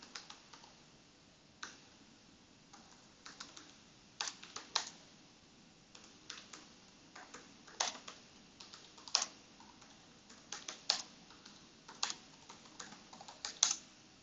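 Someone types on a computer keyboard, entering a destination in Germany into a route search, with light irregular key clicks in short bursts and occasional louder taps, alone in a quiet room.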